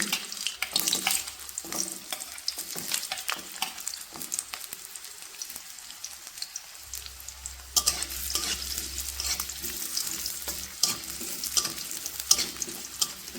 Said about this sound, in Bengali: এখন আমি কেটে রাখা গাজরগুলোকে দিয়ে দেব।